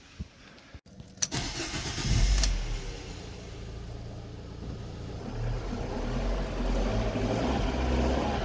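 A 2008 Fiat V Sport with a 1.4 litre 100 horsepower 16-valve petrol engine: a few clicks, a brief starter crank, then the engine catches and settles into a steady, fairly loud idle, with no talking.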